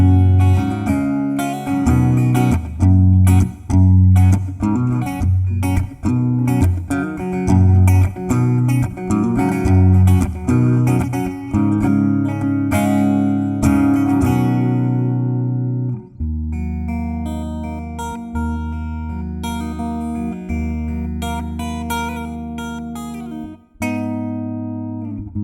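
Guitar played through a HeadRush amp-modeling rig using an acoustic guitar simulation, giving a loud, full strummed and picked acoustic tone that rings continuously with chord changes, a brief break near the end, and no talking.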